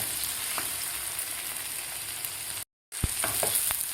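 Onion, tomato, garlic and ginger roast in a pan for a soybean curry, giving a continuous close sizzle and hiss with a few utensil scrapes and taps near the end.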